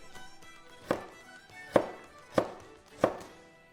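A knife chops carrots on a cutting board in four distinct, fairly soft thuds spaced under a second apart, alone without talk.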